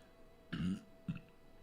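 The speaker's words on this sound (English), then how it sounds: "Excuse me, I burped." A short, low guttural burp sounds close by, followed a moment later by a second, briefer one, in an otherwise quiet room with faint hum.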